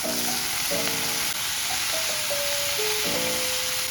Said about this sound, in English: let's head to the stove and fry these bad boys up